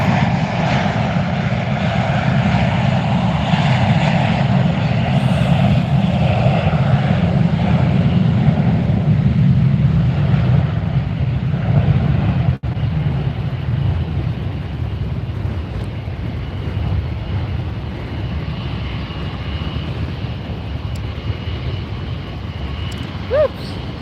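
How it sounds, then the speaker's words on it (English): A JetBlue airliner rumbles with a loud, sustained engine roar at Fort Lauderdale airport, easing partway through as it moves off, with light wind buffeting and a voice occasionally talking. "Another JetBlue coming down to departure."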